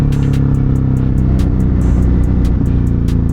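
A Ducati Hypermotard 950 RVE motorcycle engine roars steadily while riding, loud and close, with a continuous throbbing drone and rhythmic wind buffeting overhead.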